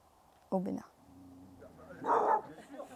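A dog barks a couple of times outdoors on a hiking trail in the Cévennes, short sharp yaps alongside a person talking nearby.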